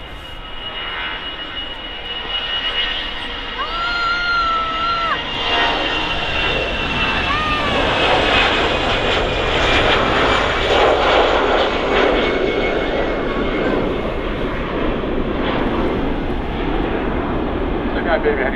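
Jet airliner engines spooling up at the start of the runway at Manchester Airport, a loud, steady roar with a rising whine that holds throughout, heard from a distance with people talking over it.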